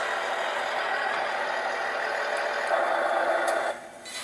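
Beier SFR-1 sound module for a Tamiya semi truck playing its reversing sound, a steady synthetic engine drone with faint high beeps, which drops off near the end, no talking.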